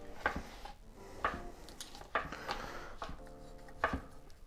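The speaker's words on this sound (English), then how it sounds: "I cut the mushrooms." Mushrooms being sliced with a knife on a board for Chinese spring rolls, with four or five distinct chopping knocks spaced about a second apart, close and fairly quiet.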